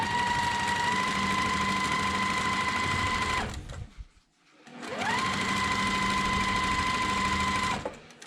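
A sewing machine stitches a fabric strip with a quarter-inch seam, running steadily at a whirring hum for about three seconds, pausing, then running again, with no talk.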